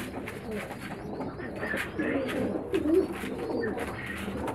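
Male pigeons cooing and scuffling while they fight, with soft, repeated throaty coos that carry on steadily and overlap one another at close range.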